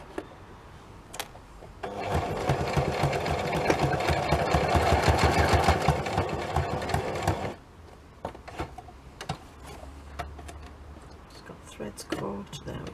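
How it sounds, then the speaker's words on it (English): A sewing machine stitching a paper stamp folio runs in one loud, steady burst of about six seconds, then stops, leaving clicks and handling noises from the work. "Now I'll quickly sew this one, and then we're done with the sewing. Well, with the sewing machine anyway."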